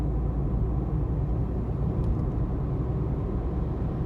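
A Suzuki Baleno overtaking on the road at around 80, heard from inside as a steady loud engine and road rumble with no clear rise in pitch.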